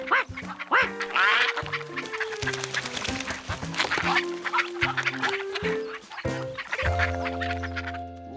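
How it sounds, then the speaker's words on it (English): Cartoon ducks quack over and over in a busy, overlapping flock at a riverside, loud and near, mixed with clucking fowl calls and musical tones. "ducks swam all around, it meant he was floating downriver with ducks."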